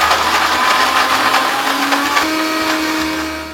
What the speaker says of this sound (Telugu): ఇప్పుడు ఇది మిక్సీ పట్టుకుందాం మనం